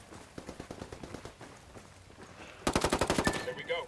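Automatic gunfire in the Ghost Wars video game: a rapid burst of shots, a short pause, then a louder, denser burst close by, with faint voices in the background.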